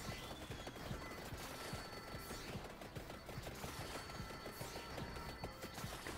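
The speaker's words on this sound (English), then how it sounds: "Explosions everywhere now." Explosions in the video game Vampire Survivors crackle as rapid, overlapping bursts, a dense, continuous barrage of popping blasts at moderate volume with no voices.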